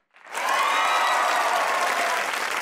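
Studio audience at a Pakistani comedy talk show bursts into loud applause, rising quickly from silence to a full, sustained roar of clapping that holds steady to the end.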